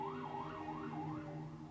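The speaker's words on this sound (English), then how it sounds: "here comes the fire engine" A fire engine siren wails in rising and falling sweeps as it passes, moderately distant, over a low engine rumble.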